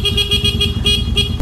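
Motorcycle horn honking loudly up close in a rapid series of short pulsing blasts with no pauses between them.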